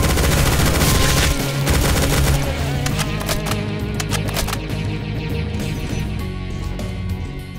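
Rapid gunfire in Doom 2 with the Project Brutality mod, fighting chaingunners: dense, loud bursts of automatic weapon fire and repeated shots rattle continuously over a booming, busy game soundscape, with no talk.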